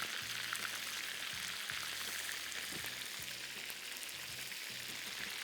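Beef pieces sizzle and fry steadily in a pan while being turned one by one, a dense continuous crackle with soft intermittent scrapes and knocks from the turning.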